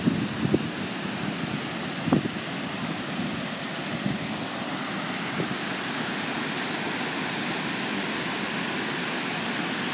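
River water rushes steadily below Kaw Dam as the tainter gates release about 66,000 cubic feet per second, a dense, constant roar with a few faint knocks early on.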